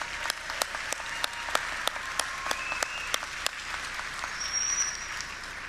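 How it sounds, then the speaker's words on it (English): Audience applause at a learning center's Class of 2021 evening graduation ceremony, a sustained spread of clapping from a crowd, moderately distant, with sharper individual claps standing out and a faint tone near the end. "That deserves a round of applause"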